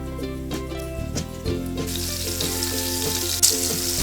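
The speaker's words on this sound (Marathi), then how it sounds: "ते तेल आधीच पॅनवर गरम करून ठेवलं होतं त्यामध्ये ही मांदेली सोडायची आहे" Mandeli fish drop into oil already heated in a pan and begin to sizzle, a crackling fry that swells partway through under steady background tones, with a brief sharp clink near the end.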